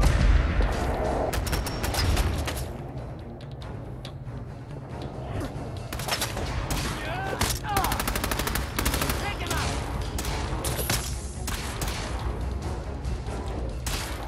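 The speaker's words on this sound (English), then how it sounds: "Machine gun turret." Rapid machine gun turret fire in Fallout 4, dense bursts of gunfire running continuously and loudly throughout, with a few heavier booms mixed in.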